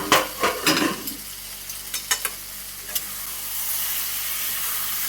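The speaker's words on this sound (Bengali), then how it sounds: "এবার ঢাকাটা খুলে একটু নাড়াচাড়া করে নেব।" Pumpkin and snail curry being stirred in a pot, with scraping spoon strokes over a steady frying sizzle that continues alone after the stirring stops.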